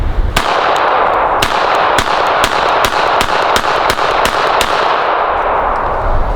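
A Sig Sauer P365 chambered in .380 fired in a rapid string of about ten sharp, loud cracks at fairly even intervals, close by, over a constant background hiss.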